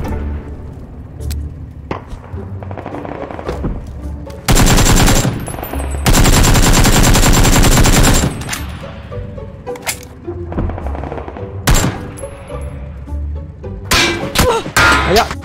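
Gunfire in PUBG aimed at a tank: scattered single shots and thuds, then two loud sustained bursts of rapid automatic fire, followed by more sharp shots near the end, with some talk in between.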